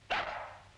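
A single sharp bark from a dog named Mr. Carson, close and loud, with a short tail of room echo and no one talking.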